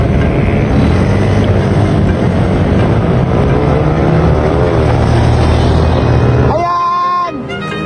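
A Dash 110 superstock motorcycle engine roars at full throttle in a race, a loud, steady, buzzing drone that holds for several seconds before dropping away, with crowd noise mixed in.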